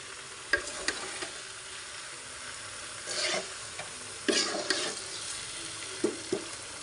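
Hog plums and jaggery stirred together in a pan, a spoon scraping and clacking in scattered strokes over a faint sizzle, with quiet gaps between the louder bursts.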